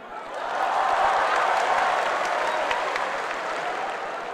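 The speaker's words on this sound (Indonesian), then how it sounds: "Boleh tepuk tangannya?" Audience at a university event in Solo applauds, a dense, steady wash of clapping from a large crowd that swells in and holds for several seconds, moderately near.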